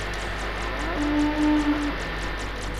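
A single cow moos inside the Goat Simulator video game, a drawn-out tonal call of about one second over steady game background noise, with no talking.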